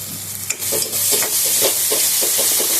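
Garlic frying in a pan for a potato and tomato curry, with a steady hiss of sizzling oil and soft scraping strokes of stirring repeating through the whole stretch.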